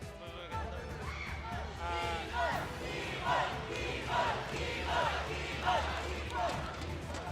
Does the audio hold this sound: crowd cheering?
yes